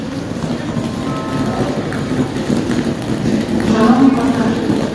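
Train rumble at a Kyiv railway station, a steady low rolling drone with faint wheel clatter and a swelling rise near the end, with station ambience and voices in the background.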